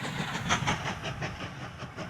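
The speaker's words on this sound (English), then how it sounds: "Wouldn't want to go too much more because it'll slow the train down." Train rolling along rails in the Mashinky video game, a steady rumble with a regular clickety-clack of wheels over rail joints, loud and even throughout with no talk.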